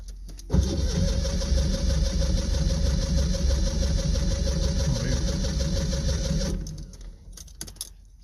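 A car engine cranks steadily for about six seconds, loud and close, then stops, with a couple of faint clicks and rattles afterward; the engine is being tried with a little choke and may be flooded.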